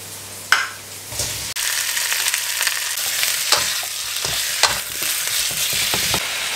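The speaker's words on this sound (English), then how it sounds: "I like to put in the garlic, onion, and chili before, and then slightly after put in the chicken." Chicken frying in a pan with garlic, onion and chili, a steady close sizzle broken by repeated scraping stirs and utensil clanks against the pan, with no talk.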